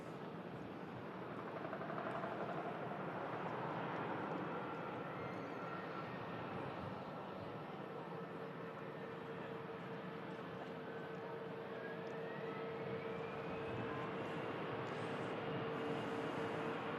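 A Jet2 Boeing 757 makes a hydraulic emergency landing on runway 23L at Manchester Airport, heard as a steady, fairly faint engine roar and rumble that holds without a break for the whole stretch, with no talk.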